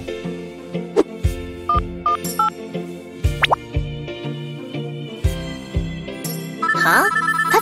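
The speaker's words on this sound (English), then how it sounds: "Huh? That's my phone ringing." A mobile phone ringtone plays a bright, bubbly melody of plopping, bell-like notes in a repeating pattern, close and clear, with no talking over it.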